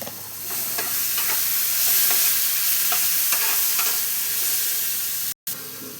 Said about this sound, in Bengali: সামান্য মশলা দেওয়া বাটিটার থেকে জল দিয়ে দিলাম। এবার এটা কষতে থাকি।